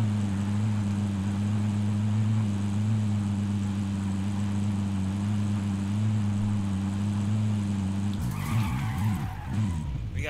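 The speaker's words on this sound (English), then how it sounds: "Helicopter inbound." A helicopter approaches in Call of Duty: Modern Warfare Warzone, a loud, steady low rotor drone that holds for about eight seconds before breaking into a rougher, shifting burst of noise near the end.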